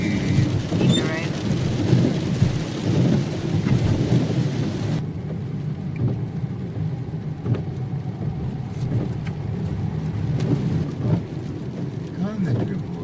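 Steady rain falls during a motorbike ride on Rhodes, Greece, with a deep rumble of thunder rolling underneath, loud and continuous throughout, with no clear speech.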